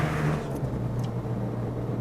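A Porsche 911 GT2 twin-turbo engine pulls steadily in fourth gear, a low, constant droning hum from inside the car with no clear rise in pitch over two seconds.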